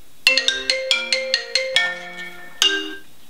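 Phone ringtone plays a bright, melodic run of quick plucked notes, loud and close, ending on a longer sustained note; no talk.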